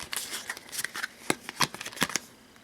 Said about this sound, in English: grab our scavenge deck, and we are going to give it a quick shuffle